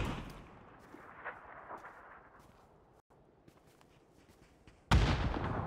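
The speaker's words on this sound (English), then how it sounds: "I'm nading the hay, bro. It's gonna blow up." A grenade explodes on hay in a first-person shooter video game: after quiet rustling and distant shots, a sudden loud blast lands near the end and its rumble carries on.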